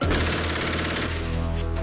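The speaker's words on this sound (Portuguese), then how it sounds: "esse tipo de fuzil tanto pode ser usado em rajadas, como no tiro a tiro" A Brazilian-made .556 caliber police rifle fires on full automatic, a loud, continuous, rapid burst of shots with no talk over it.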